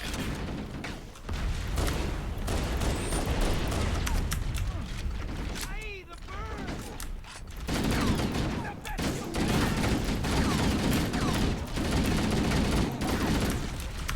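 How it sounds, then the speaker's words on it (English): Sustained automatic weapon fire in Halo CE, dense rapid bursts with mechanical clatter and brief pauses, close and loud, with a voice speaking partway through. "The more you hold down the firing button, the less accurate this becomes"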